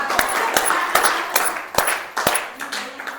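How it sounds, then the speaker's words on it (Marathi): Audience at a Buddhist scripture-reading gathering clapping for Ubale tai: a steady series of sharp, loud claps in an even rhythm that runs throughout. "उबाळे ताईसाठी जोरदार टाळ्या वाजवायच्या आहेत."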